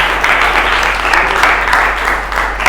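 A classroom of students applauds a student group after its presentation in an Indonesian language lesson, dense continuous clapping that fills the room evenly from start to finish.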